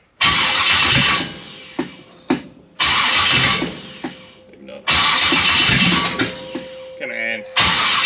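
A 1955 Chevy Nomad being cranked with the key on its first start: loud, repeated bursts of starter whirring and rough sputtering attempts, close up, with short pauses and a brief spoken remark between tries.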